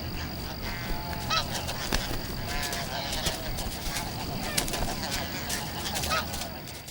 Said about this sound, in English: the snow geese have adjusted well